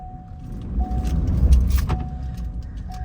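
A leveled 2024 Ford Ranger pickup's four-cylinder engine revs up close by in mud, swelling louder and then easing back, with faint jingling in the background.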